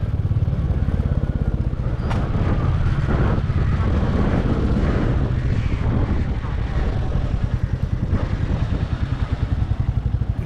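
A motorcycle ride through the streets of Phuentsholing, Bhutan, the engine droning steadily up close with wind buffeting the microphone and a faint voice now and then.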